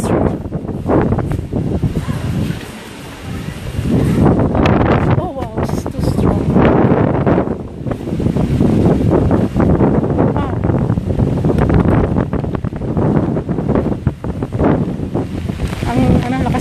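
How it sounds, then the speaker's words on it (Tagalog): Strong wind at Boracay's front beach buffeting the microphone in loud, gusty rumbles with surf in the background, while people talk throughout. "The wind is strong."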